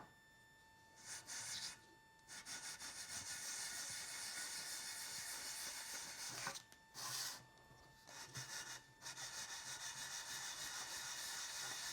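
Light hand sanding with 600-grit sandpaper and WD-40 on a Porsche 915 transaxle gasket surface: quiet, continuous rasping strokes in rhythmic back-and-forth runs, broken by a few short pauses.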